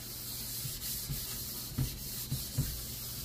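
A stainless steel scrubbing pad rubs the inside of a wok in a steady faint scouring hiss, broken by a few soft knocks, heard alone and nearby.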